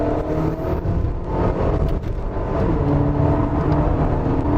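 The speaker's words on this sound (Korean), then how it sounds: "확실히 스포츠 모드에서 엔진 사운드가 좀 더 매력이 있어집니다" A Mercedes-Benz GLB or GLA engine in sport mode pulls with a deep, steady rumble from inside the cabin, with road and wind noise blended in and no talk.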